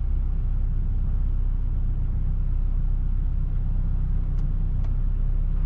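A VW Golf 8 slowly parking itself forward with Park Assist into a tight space, heard as a steady low engine rumble close by with a few faint ticks near the end and no talk.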